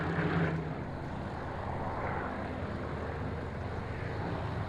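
An aircraft taxiing before departure, a steady engine and propeller drone that continues without a break, moderately loud with no talk.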